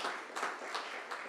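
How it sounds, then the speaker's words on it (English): At an elementary school Terrific Kids award event, a quiet, short round of applause comes in a few soft rippling bursts of clapping from a small group, somewhat distant, without talk. "Y'all give her a round of applause"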